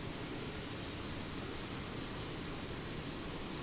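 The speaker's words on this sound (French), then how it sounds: "Les moteurs démarrent." Steady broadband jet engine roar of an Airbus A380 starting in Microsoft Flight Simulator 2020, a constant rushing whine with no breaks, moderately loud and even throughout.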